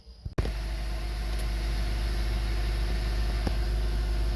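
2005 Honda Element, 221,703 miles on it, its engine cranking briefly and catching, then settling into a steady, even idle that stays loud and close throughout, with no voices.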